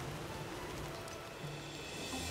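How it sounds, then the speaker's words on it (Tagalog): Heavy rain pours steadily outdoors at a reality-show house, a continuous faint hiss of falling water with low rumbling underneath and no voices. "tuloy pa rin ang pagbuhos ng ulan"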